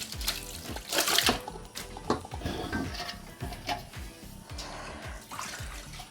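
Water drains from freshly made chhana strained through a cloth, giving soft intermittent trickles and splashes at close range, with a few louder pours, and no talk.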